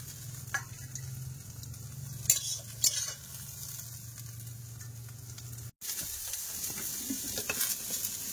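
Bitter gourd and potato fry in a pan with a constant crackling sizzle over a low hum, broken by a few utensil scrapes. The sound cuts out briefly, and fainter cooking sounds follow.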